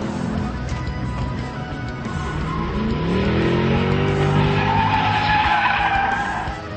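A Mercedes-Benz AMG 63 Black Series drifts on a racetrack in Fontana, its tires squealing in long rising and falling howls over a steady engine roar, loud and close throughout.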